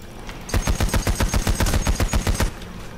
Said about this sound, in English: I am a constant reloader, even though if I have a giant fucking light machine gun.